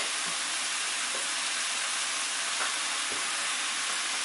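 Chopped leeks fry in oil in a pan with a steady, loud, even sizzle that holds throughout, broken only by a couple of faint clicks and no voices.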